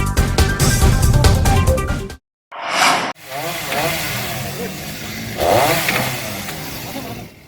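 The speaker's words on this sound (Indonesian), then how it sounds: "Menggunakan gergaji mesin, petugas BPBD Samarinda ini memotong batang pohon yang tumbang" A chainsaw cuts through the trunk of a fallen tree that struck an employee dormitory in Samarinda, its engine loud and close, revving hard, cutting out briefly, then resuming with rising and falling pitch.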